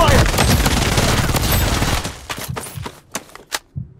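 Rapid automatic gunfire from the Blood Strike video game fills the first two seconds in a dense, loud fusillade, then breaks into a few separate sharp shots and bursts with short gaps.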